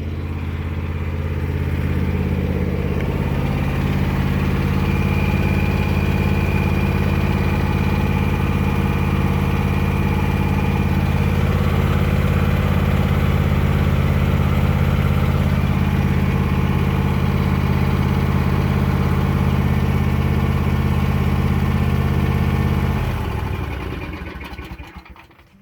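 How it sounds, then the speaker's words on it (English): A Husqvarna TS 354XD garden tractor idles low and steady, a loud, close, even engine rumble that holds for over twenty seconds before the engine shuts off and the sound drops away. "you want to idle it down all the way to as low as you can for about a minute and then shut it off"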